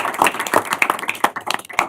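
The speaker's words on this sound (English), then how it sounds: "I'd like to lead applause for these people." Scattered, uneven clapping from a small group at a state board of education meeting, individual claps distinct and close in an irregular rhythm.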